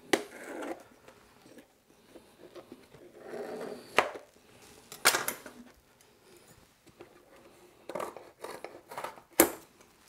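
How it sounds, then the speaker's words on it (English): A knife trims the sides off a mixed fruit shortcake, giving soft, close scraping and crumbly crunching strokes in irregular bursts, with a few sharper cuts and quiet gaps between. "Just cut the sides with the knife."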